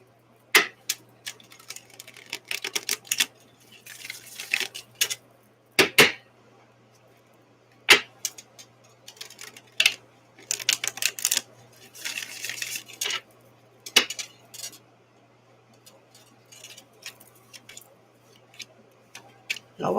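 Playing cards shuffled in repeated riffles and snaps, crisp bursts separated by pauses, close and fairly loud over a low hum.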